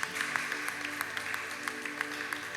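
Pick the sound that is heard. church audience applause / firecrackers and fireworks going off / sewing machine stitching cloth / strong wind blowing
church audience applause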